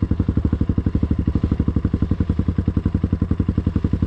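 An enduro motorcycle engine runs close by in Toropets, putting out a steady, fast, pulsing thump with a mid-pitched clattering beat that holds even across the whole stretch, with no clear voices over it.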